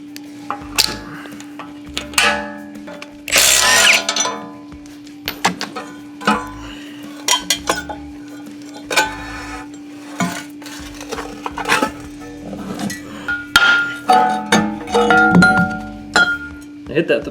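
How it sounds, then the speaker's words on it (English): Repeated sharp metallic strikes from a 2-pound hammer, hit on its plastic end, knocking an old lower ball joint off a Honda EG Civic front spindle, irregular close blows with clattering among them. "I hit the plastic end of my BFH so I don't dent this rotor since I'm reusing it."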